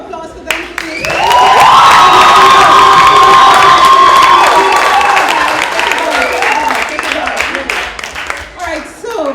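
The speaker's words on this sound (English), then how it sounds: "One more round of applause for them," A crowd at a youth poetry competition breaks into cheering and clapping for the finalists, rising suddenly to loud excited shouts and whoops that persist and slowly thin out over scattered applause.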